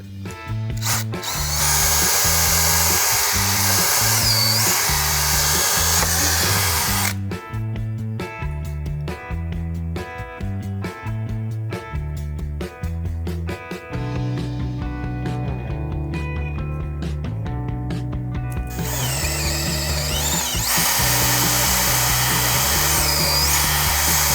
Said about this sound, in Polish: musimy nawiercić otwór w naszej belce i przepuścić to przez ten otwór